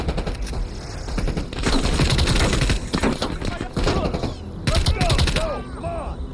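Rapid gunfire in the video game Call of Duty: Cold War, with bursts of fusillade and machine-gun fire in close, loud clusters broken by short gaps, alongside excited voices.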